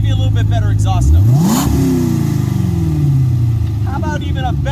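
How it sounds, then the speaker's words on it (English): Supercharged LSA V8 swapped into a Porsche 928 revs hard through its exhaust, the loud close note sweeping up and falling back in one long blip over a rumbling idle, with a voice briefly talking at the start and end. "let me give you a little bit better exhaust note."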